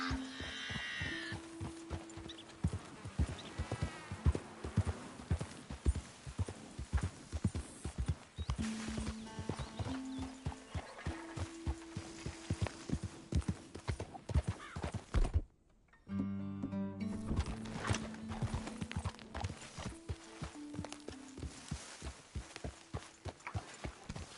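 Steady, rhythmic clip-clop of horse hooves in the video game Red Dead Redemption 2 over a long stretch, with musical tones and a brief pause partway through.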